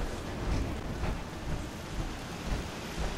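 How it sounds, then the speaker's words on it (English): Rain in the game Fallout 4 makes a steady broadband hiss throughout, with soft low rumbles swelling now and then like distant thunder and no voices. "We got rain."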